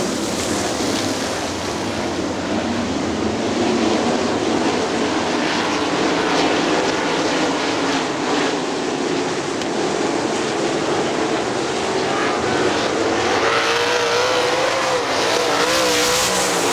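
At Hartford Speedway Park, a pack of 410 sprint cars roars around the track in a 20-lap open sprint feature, a loud, continuous, dense engine howl that swells as cars pass.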